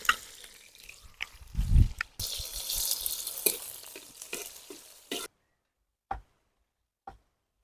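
Crushed garlic and ginger hit hot oil with shallots in a pan, giving a brief loud sizzle and stirring scrapes that fade out into a few isolated clicks.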